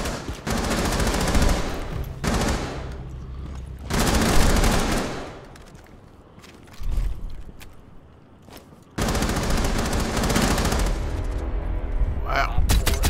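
Sustained automatic gunfire in the video game Rainbow Six Siege, loud close bursts of rapid shots broken by brief quieter gaps, then a long final volley.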